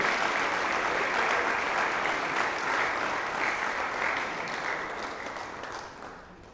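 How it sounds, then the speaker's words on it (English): Applause fills a large hall at an awards night for the women's basketball team of the year, a steady, dense crowd clapping that stays loud and slowly fades toward the end. "One more round of applause for the Women's Team of the Year basketball."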